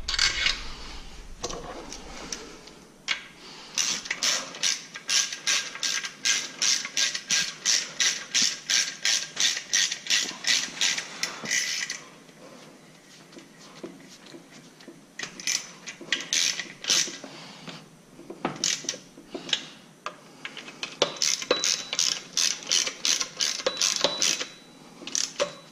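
Ratchet wrench clicking in quick rhythmic bursts while tightening bolts on a solid supercharger coupler of a 2014 Chevy SS, loud and close, with pauses between runs of clicks and no talk.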